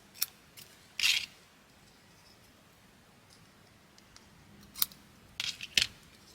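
Scissors trim excess paper from small matchbox journals, a few sharp close snips in short bursts separated by quiet pauses.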